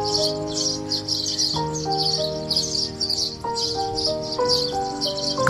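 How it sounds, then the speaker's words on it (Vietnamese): Recorded bird calls played from a machine near a utility pole to lure birds: repeated high chirps and tweets come at a steady pace over a low, tonal hum, at moderate loudness and with no speech. "Là các bạn nghe cái tiếng chim."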